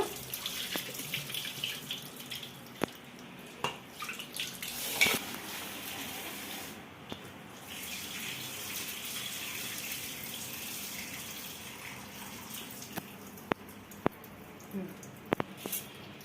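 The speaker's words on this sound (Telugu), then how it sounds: "ఇట్లా రెండు మూడు సార్లు కడిగేసుకొని ఇంకా మంచి నీళ్ళు వేసుకొని నానేసుకోవాలి" Soaked grains for watermelon dosa batter are rinsed by hand in a kitchen, giving a continuous wash of running and sloshing water with scattered small knocks and clicks.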